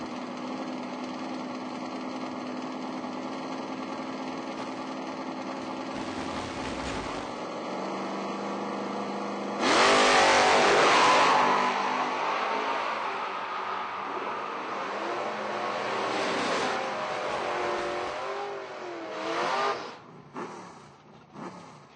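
Super stock Mopar drag racing cars launch side by side at a footbrake race, a steady engine drone rising into a loud roaring burst with climbing revs that then fades away down the track.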